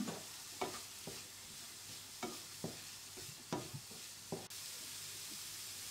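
A vegetable mixture is stirred in a pan for a bread snack, with repeated scraping strokes at an irregular rhythm over a faint background hiss.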